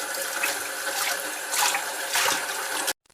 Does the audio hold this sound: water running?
yes